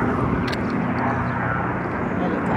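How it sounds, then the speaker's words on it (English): A helicopter flying overhead in a park, a steady distant engine drone with a person talking over it. "Helicopter."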